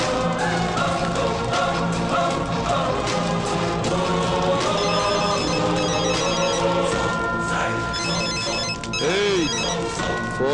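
A phone rings loudly with a continuous melodic electronic ringtone that repeats through the whole stretch, over a dense background of a movie scene.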